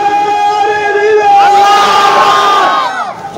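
Large gathering answers a takbir call with a loud, unified chant of Allahu Akbar, voices swelling together for a few seconds before tapering off.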